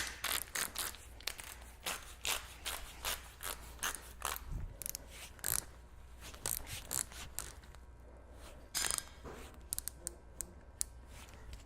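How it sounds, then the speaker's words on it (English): A torque wrench tightens the steering arm on an FJ40 to 130, giving a fast series of sharp ratcheting clicks in uneven bursts, close and fairly quiet with no talking. "Let me grab my torque wrench and we'll torque that up to 130."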